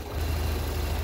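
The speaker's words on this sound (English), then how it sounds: "With the engine up to temperature, I disconnected the vacuum advance and I brought the revs down to about between 500 and 600." Vauxhall Viva engine fitted with a Weber carburettor idling slowly at around 500 to 600 rpm once warm, a steady low throbbing pulse with regular beats, close and continuous.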